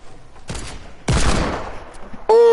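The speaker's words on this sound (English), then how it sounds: "Shooting at him." Bursts of gunfire from a duos battle-royale-style video game, two loud volleys in quick succession, the second long and sustained, ending with a sharp tonal game sound.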